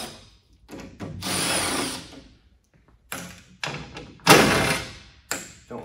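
A power drill whirs in short bursts while backing T30 screws out of a Ford vehicle panel, loud and close, each spin-up separated by quiet gaps and light clunks.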